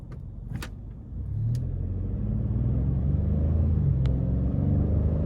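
A 2024 Ford Expedition King Ranch with a turbocharged engine accelerates, a low rumble swelling after a second and holding steady, with a few faint clicks early on.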